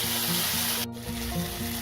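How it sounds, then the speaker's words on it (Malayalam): Tomatoes added to sautéed onions sizzle and fry steadily in a pan for a Kerala-style roast, with faint stirring scrapes over the continuous hiss and no voices. "തക്കാളി വന്നിട്ട് നന്നായിട്ടൊന്ന് വഴറ്റാം."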